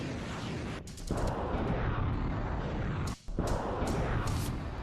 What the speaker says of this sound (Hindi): तोपखाने दनादन आग उगल रहे हैं।